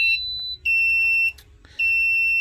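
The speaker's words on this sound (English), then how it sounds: "Buzzer works because the oil pressure is at zero." Low oil pressure alarm buzzer on a boat's helm panel sounds as steady, loud electronic tones in three long bursts separated by short gaps, close and alone with no talk.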